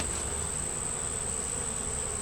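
A steady, dense insect buzz of many honey bees at a hive, continuous and close, with no voices, plus a faint high electronic whine.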